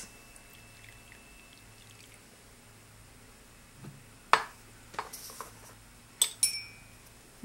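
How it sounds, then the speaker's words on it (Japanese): Hot water poured from a pot into a cooling vessel while preparing Shizuoka tea indoors, a brief soft pour followed by a few light clinks of ceramic or glass, close and quiet with no talking. "取ったお湯を湯冷ましに移して50度まで冷まします。"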